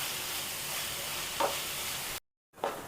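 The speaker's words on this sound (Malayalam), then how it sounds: "ഒന്ന് ബ്രൗൺ കളറാവുന്നത് വരെ നമുക്കൊന്ന് ഇളക്കിയെടുക്കാം" Onions with crushed ginger sizzle steadily in a pan while being stirred, with a couple of brief scraping stirs and a short gap of silence near the end.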